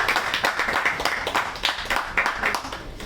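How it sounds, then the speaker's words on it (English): A group of listeners at a homeopathy lecture applauding a participant, a brief, moderately loud burst of mixed hand claps with distinct individual slaps standing out. "So big round of applause for Ramesh"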